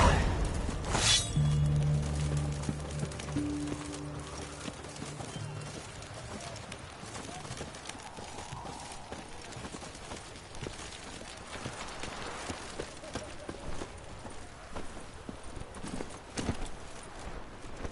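Roach the horse from The Witcher game clops along at a steady trot, hoofbeats running under ambient game sound and a music swell near the start.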